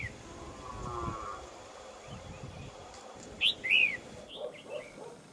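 Red-whiskered bulbuls released outdoors, calling in a few short bright chirps near the middle and end over a steady bed of ambient outdoor noise and insect hum.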